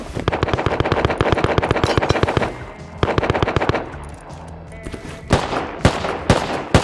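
Rapid automatic gunfire bursts from the Rust survival video game, loud dense volleys in two stretches, then scattered single shots and pops, with faint voices chatting underneath.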